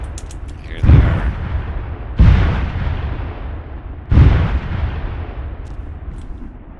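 Howitzer artillery in the game Arma 3 (WW2 IFA3 mod) fires three heavy booming shots about two seconds apart, each with a long rumbling decay over a steady low background.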